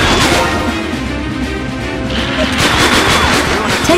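Rapid gunfire and crashing impacts from the Konami first-person light gun shooter Police 24/7 on PlayStation 2, a dense, loud, continuous barrage of shots and booms with no speech over it.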